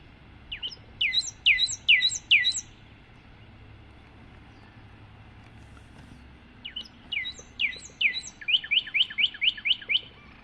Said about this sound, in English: It's a good sized bird, so he's got some song there going on. He's got volume in his song.